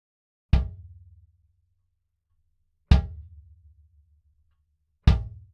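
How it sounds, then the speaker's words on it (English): Kick drum with all its internal stuffing removed: three well-spaced, loud booming hits, each with a sharp attack and a long, hollow, ringing low tail, heard alone. "here's what it sounded like when I took all of the stuffing out of the kick drum"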